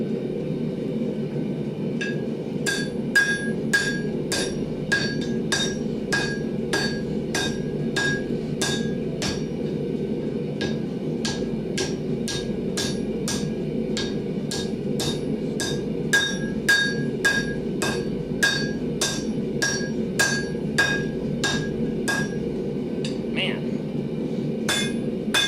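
Rhythmic hammer blows ring out on an anvil as hot steel is forged into S-hooks for a firepit, a long steady series of sharp metallic clinks over a low background hum.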